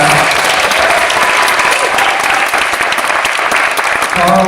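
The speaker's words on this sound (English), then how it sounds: "big round of applause" An audience at a film screening with cast members claps in loud, dense, sustained applause that fills the whole moment, with a faint voice rising briefly near the end.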